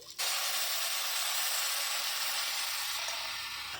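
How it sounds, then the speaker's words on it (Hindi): A buttermilk and gram flour mixture hits a pan of hot onions and curry leaves, setting off a sudden loud, steady hiss of sizzling steam that continues unbroken for several seconds. "अब हम सीधे डाल देंगे अपना छाछ और बेसन का मिक्सचर"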